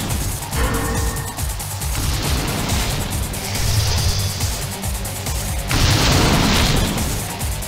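Explosions erupt during a battle atop the Twin Towers in the PS1 game Spider-Man 2: Enter Electro, with a run of heavy booms and crashing bursts, loud and dense, rising in bursts near the middle and end.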